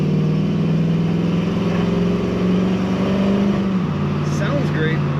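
A 1973 Chevrolet Camaro Type LT with an automatic transmission runs with a loud, steady low engine rumble and a slight dip in pitch near the end.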